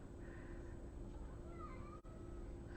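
A pet cat meows for wet food indoors, a few drawn-out mid-pitched calls rising over a steady background hum, with a brief dropout partway through.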